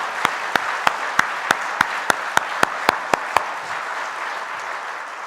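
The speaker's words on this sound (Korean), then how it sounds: "하나님께 감사 박수 한번 합시다" A church congregation at a Sunday worship service claps in thanks to God, about a dozen loud, evenly spaced unison claps over a soft bed of scattered clapping, then the rhythm stops and faint applause trails off.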